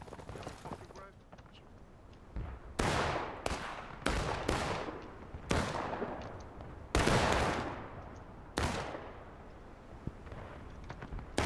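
Gunshots in the Blue and Grey battle event crack out in a series of about seven loud, separate volleys with echoing tails, spaced a second or two apart, with faint talk between them.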